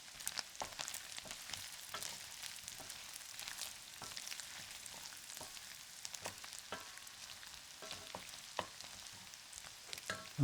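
Potatoes fry in a pan with a quiet, busy crackle, broken by frequent scraping stirs and light utensil taps, close up and faint, with no one speaking.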